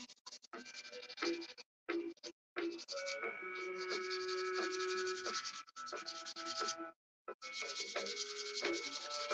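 A Dremel rotary tool grinds into wood near a knot in a series of raspy, whining bursts separated by short pauses, close and fairly quiet.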